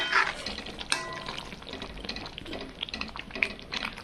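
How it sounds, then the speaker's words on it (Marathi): Gravy for a chickpea lentil amti curry frying in a pan, giving a close, continuous bubbling sizzle with occasional spoon stirs. "थोडासा वेळ लागतो याला फ्राय व्हायला"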